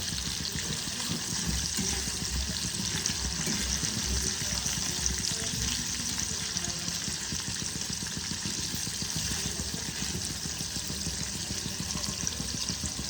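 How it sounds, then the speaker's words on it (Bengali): Steady, dense sizzling of paneer frying in a hot pan, continuous and fairly loud throughout with no talking. "আমি এই জন্য একটু হালকা করে ভেজে নিচ্ছি"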